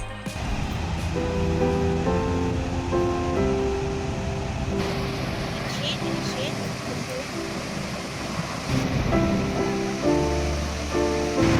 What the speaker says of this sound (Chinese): 这个瀑布非常特别的地方是，它是一个跨国大瀑布，跨越中国、越南2国。